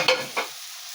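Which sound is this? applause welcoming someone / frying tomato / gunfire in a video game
frying tomato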